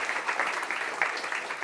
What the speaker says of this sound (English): So let's give applause.